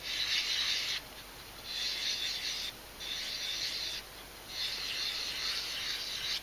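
A hand rubs back and forth over a storebought wood board prepared for pyrography, some of it sanded and some not, making four close, even bursts of dry hissing friction with short pauses between them and no talking.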